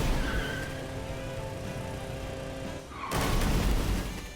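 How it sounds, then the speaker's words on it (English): A car being driven in a gacha video game, its engine droning steadily with tire noise, then a sudden louder surge of acceleration near the end, with no speech over it. "Oh, you can drive a car!"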